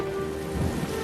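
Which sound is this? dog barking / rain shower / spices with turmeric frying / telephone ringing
rain shower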